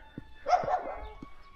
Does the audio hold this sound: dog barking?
yes